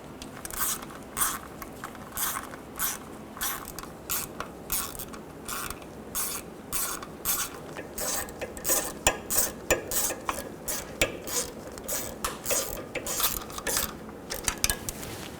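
Repeated ratcheting clicks in quick bursts as oil pan bolts are run in by hand on a 2010-2014 Subaru Outback 2.5L H4, close and fairly loud, with brief pauses between bolts.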